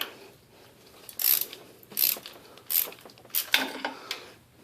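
A hand ratchet clicks in short bursts while tightening a cam position sensor bolt on a GM 3.1/3.4 V6 engine, about five crisp close ratcheting pulls separated by brief pauses.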